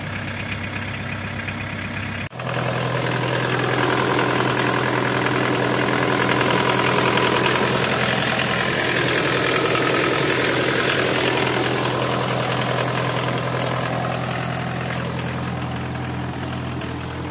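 The 2.5-litre engine of a 2002 Porter truck starts up and idles steadily, a close, even diesel-like chug with a faint knocking rhythm running unbroken.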